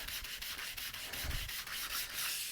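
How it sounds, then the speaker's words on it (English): Sandpaper rubbed back and forth across the wooden body of a custom Fender Mustang guitar, a steady, close, rhythmic abrasive rasp with regular strokes and no speech. "When you sand on something like this and you want a smooth finish, it's not good to go across the grain like this."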